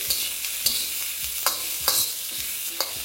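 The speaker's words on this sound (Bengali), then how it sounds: "দেখতেই পাচ্ছেন এখন এগুলো বেশ ভালো করে ভাজা হয়ে গেছে।" Ingredients for garlic prawn noodles are stirred and fried in a pan, a steady sizzle with regular scraping strokes of a spatula about every half second, close and clear.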